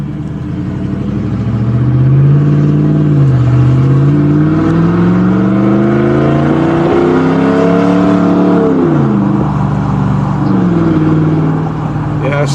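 A 2017 Ram 1500 with no muffler and no tailpipes runs loud and close, its deep exhaust note rising and falling as it revs and pulls away. It holds a continuous heavy drone for the whole stretch.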